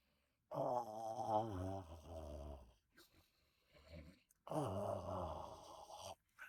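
Two long, loud, rasping snores with a gap between them, a deep rattling drone that rises and falls with each breath, imitated by a voice.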